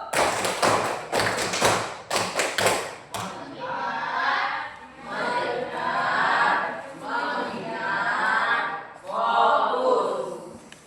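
A classroom of children does a rhythmic clapping routine, with several sharp, evenly spaced group claps followed by loud children's voices chanting and shouting together.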